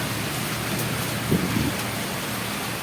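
Rain falls steadily outdoors as a dense, even hiss, with a brief louder patch of drops or movement midway and no voices.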